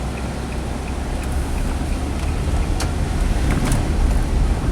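A Nissan car drives along with a steady road and engine rumble and tire hiss, a brief bump as a gear is shifted hard, no voices.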